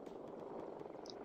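A helicopter in the video game Arma 2 approaches from a distance, its steady rotor and engine drone spread as a broad, continuous rumble over faint background game noise.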